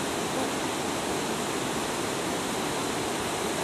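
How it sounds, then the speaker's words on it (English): Broad, steady roar of falling water at Turner Falls, close and loud, a dense unbroken rush filling the whole clip with no voices. "That's such a cool waterfall."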